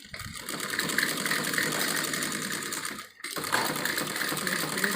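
A sewing machine runs steadily while double-stitching the seams around a salwar, with a brief pause near the end before the motor picks up again at the same pace, close and loud with no talking.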